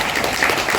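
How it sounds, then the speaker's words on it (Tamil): Dense, steady clapping from an audience at a Tamil Lenten retreat, a continuous even wash of many hands at close range, with no voices over it. "கைதட்டு"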